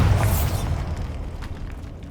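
The Bombarda blasting spell in Hogwarts Legacy fires off as a short, deep explosive boom with a rumbling low burst that fades quickly, heard alone.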